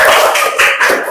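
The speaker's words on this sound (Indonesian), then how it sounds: "ya, tepuk tangan." A classroom of students clapping hands together at a teacher's prompt during a school lesson, a short burst of quick, close, crisp claps of about a second.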